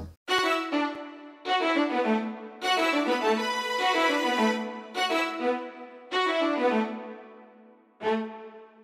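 Sampled orchestral strings from the Session Strings Kontakt library play a pop string part in bright, sustained phrases with sharp restarts, loud and alone with no talking.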